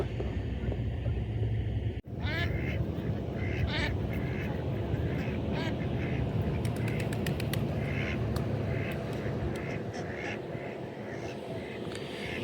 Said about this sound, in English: Get out of here, duck.